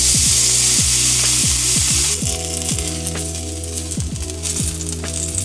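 Picanha fat cap rendering in a hot pan, seasoned with kosher salt: a steady, close hiss of sizzling fat under a droning, tonal backing with repeated falling notes, with no talk.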